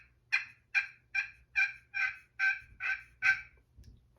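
A hand-played turkey slate call gives eight evenly spaced, raspy yelps in a quick series, close up and fairly soft, alone.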